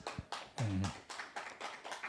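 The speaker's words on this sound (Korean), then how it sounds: "박수 한번 쳐주십시오." Clapping from an audience at a Korean church service, a short, fairly faint patter of hands in loose waves, with a brief voice near the start.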